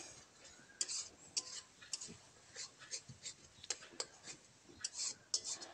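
A spice masala with chilli powder is stirred and fried in a pan for a bata fish curry. Faint, irregular clinks and scrapes of a utensil against the pan come in quick, uneven taps over a quiet background.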